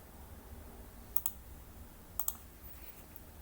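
A computer mouse clicks faintly twice, each a quick double click, while saving in Microsoft Access, against a quiet background hiss.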